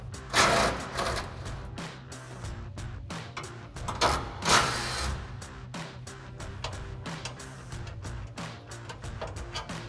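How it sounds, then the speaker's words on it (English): An impact wrench with a 15 mm socket backs bolts out of a Rough Country heavy-duty rear bumper on a RAM 2500, giving short rattling bursts of varied length between quieter gaps, close and fairly faint, with no talking. "we're going to grab our impact and 15 millimeter socket,"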